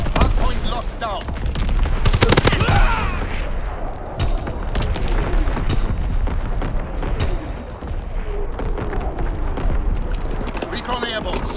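Call of Duty WWII battlefield in the Ardennes Forest, with repeated loud booming artillery blasts and bursts of gunfire crowding together, a voice calling out over the chaotic barrage.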